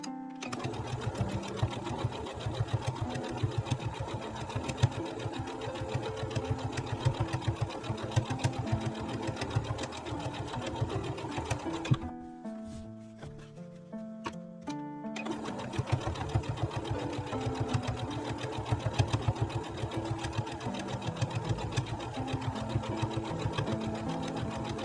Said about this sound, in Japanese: ここもう一度端ミシンかけます。